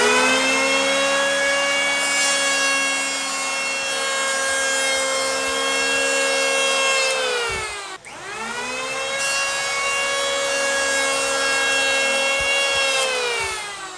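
Wen 6 amp electric hand planer cutting a rabbet in wood: a loud, steady whining motor with a rough cutting rasp, briefly dipping midway before resuming, close and without talk.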